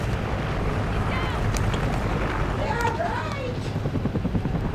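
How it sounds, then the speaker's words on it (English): A helicopter from the video game Call of Duty: Ghosts sounds as a steady, dense rotor roar beneath a constant wash of game noise and distant explosive rumbles. "Friendly chopper inbound."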